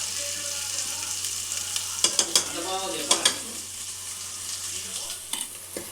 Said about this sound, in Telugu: ఇది మొత్తం మంచిగా ఆయిల్ అంతా పైకి వచ్చేంత వరకు ఇట్లా వేయించాలి